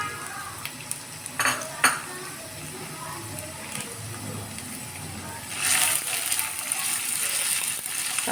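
Chopped ginger and garlic fry in hot oil while a spatula stirs them, giving a continuous soft sizzle with sharp scrapes and clinks against the pan. The sizzle rises louder toward the end.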